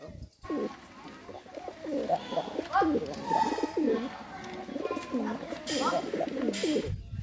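Pigeons cooing in repeated throaty calls, several birds close by in a continuous overlapping chorus.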